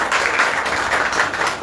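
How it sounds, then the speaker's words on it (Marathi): A gathering of former school classmates gives steady, close applause for a fellow alumnus, a dense patter of many hands clapping throughout. "त्याच्यासाठी सर टाळ्या झाल्या पाहिजे"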